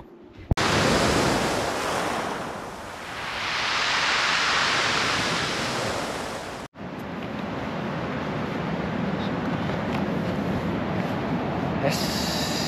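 Steady ocean surf at a beach with chest-to-shoulder-high waves, a broad continuous wash of breaking water and wind that swells and eases, loud and close throughout with no voices.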